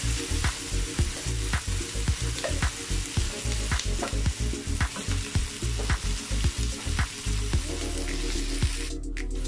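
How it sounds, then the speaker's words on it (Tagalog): Rice and added ingredients stirred and fried in a hot pan: a loud continuous sizzle broken by a regular series of scraping stir strokes, close up, with no talk. "At haluin lang natin yan guys para ma-mix yung mga sahog natin sa kanin."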